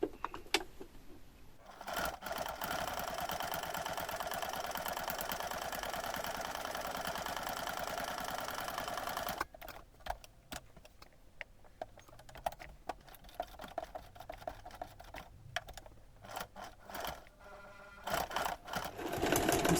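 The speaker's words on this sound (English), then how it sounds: "I'm sewing about 1/2 centimetre from the outside" A sewing machine stitches a fabric basket seam, whirring in a fast, steady run for several seconds, then stopping to short, stuttering bursts of stitching with pauses between them.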